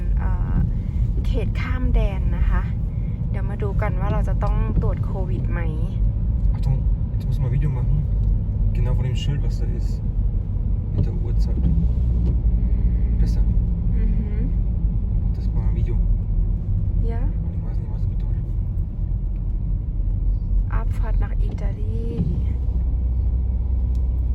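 A car driving on the road in Bolzano, Italy, with steady low engine rumble and road noise throughout while someone talks over it.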